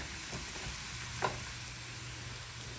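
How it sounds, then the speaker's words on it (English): Continuous soft sizzling of a tortilla frying in a pan, steady and close, with a faint clink partway through and no voices. "Let it fry."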